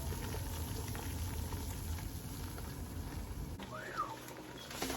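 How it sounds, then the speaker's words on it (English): A pot of water for blanching corn boils at a steady roll nearby, a dense continuous bubbling hiss with a brief faint clink near the end. "Looky here, we have boiling water."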